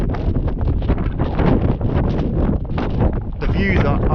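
Strong wind on a hilltop on the Cruach Mhor hike, loud continuous gusting and buffeting across the microphone with a person talking beneath it.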